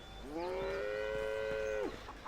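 A cow in The Bard's Tale video game lets out one long, drawn-out moo that rises at the start and drops at the end, clear and close against a quiet background.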